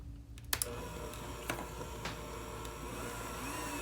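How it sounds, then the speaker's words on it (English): Akara bean batter being whisked in a bowl, a steady scraping, clattering churn with a few sharper knocks, heard close and alone. "Whisk it again"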